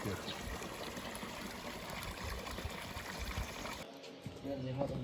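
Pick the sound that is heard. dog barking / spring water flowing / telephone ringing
spring water flowing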